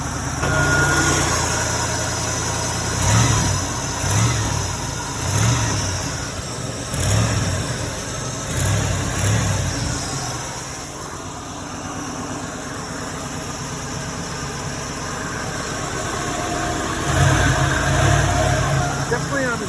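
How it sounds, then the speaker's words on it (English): A 1970s-era Oldsmobile 442 V8 idling with a suspected exhaust leak on the driver's side near the manifold-to-downpipe joint, a steady engine rumble with faint rhythmic pulses, mostly under a person talking nearby. "it sounds like an exhaust leak."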